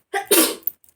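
A single close sneeze with a sharp breathy burst, followed by a faint trailing breath, heard alone in a quiet indoor room.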